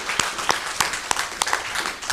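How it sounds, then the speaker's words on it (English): An audience applauds after a speech at the ICMI, with sparse, uneven claps from a small crowd and several sharper individual claps standing out. "I didn't even make them clap"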